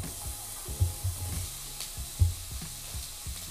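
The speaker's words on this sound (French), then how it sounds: "On va y verser notre oignon." Chopped onion sautéing in sunflower oil in a pan over medium-high heat produces a quiet, steady sizzle with a few soft knocks and stirring bumps, heard close and without speech.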